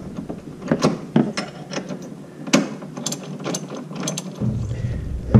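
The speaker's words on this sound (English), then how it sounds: "Now we have a 3/4 socket here and 9/16 wrench to tighten this up." A ratchet wrench with a 3/4 socket tightens a bolt on a RZR seat mount, making irregular bursts of sharp pawl clicks close by, with short pauses between strokes.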